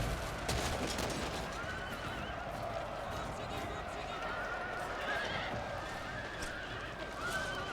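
A cavalry charge of Haradrim horsemen in a Lord of the Rings-themed Total War battle: steady drumming hoofbeats and repeated whinnies over a constant battle din, with scattered gunfire-like cracks and a voice commentating now and then.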